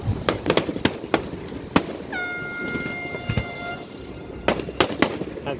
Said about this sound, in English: We enjoyed New Year's Eve on board and were treated to a fantastic show of fireworks, just 300 feet from our boat.